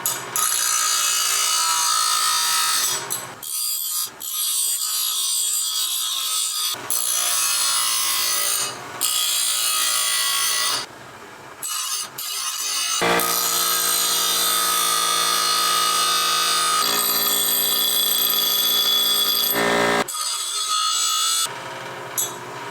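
Power tools cut and grind through metal stock for aircraft landing gear cross members on a Skybolt biplane build, loud harsh bursts of varying pitch separated by short pauses, with no talking.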